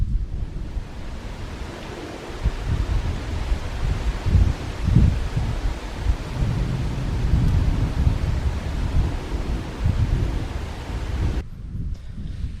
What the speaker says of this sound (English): I don't know if you heard that, but that's thunder.